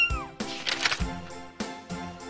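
A voice imitates a cat with a few drawn-out meows in quick succession, close and clear, while reading a Spanish children's story aloud.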